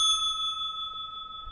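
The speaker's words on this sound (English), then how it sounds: "smack that notification bell" Notification bell sound effect: a single bright bell ping with long sustained ringing tones that slowly fade, heard clearly and alone.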